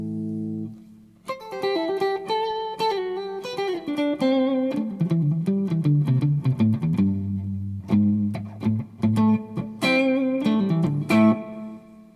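Clean Fender Mustang electric guitar with a little reverb and delay, played neck pickup alone: a melodic line of sustained notes and chords ringing with soft echoing tails, moderately loud and steady throughout.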